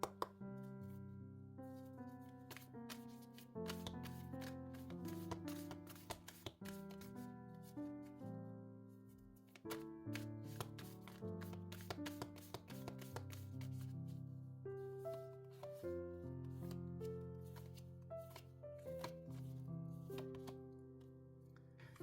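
Oracle cards shuffled by hand for a tarot reading, a long run of soft riffling and sliding card sounds under quiet background music.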